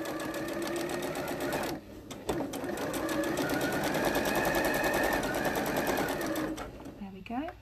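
A sewing machine stitches steadily through an understitched pocket seam, a continuous close whirring with a brief pause partway and short restarts, over faint background noise.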